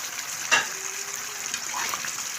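Ginger paste and whole spices fry in a pan for a mutton dish, giving a soft, steady sizzle with one brief clatter near the start, heard close up and without speech.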